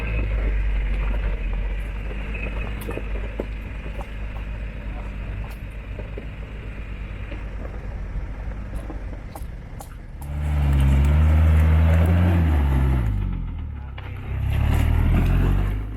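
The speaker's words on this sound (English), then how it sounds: "Next was Dave in the mighty JK with 35-inch tires. He did a very easy run there." A Jeep Wrangler JK on 35-inch tires crawls off-road on a forest hill track, its engine a low steady drone that swells into a louder revving push near the end, with faint talk in the background.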